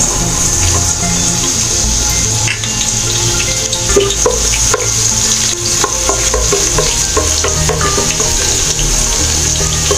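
Garlic fries in hot oil in a pan while being stirred for a Filipino-style Indonesian sambal, giving a loud, steady sizzle with scraping stirring strokes and occasional clinks close by, and no talking.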